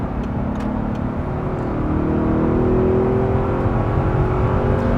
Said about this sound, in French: le bruit du moteur atmosphérique, le V8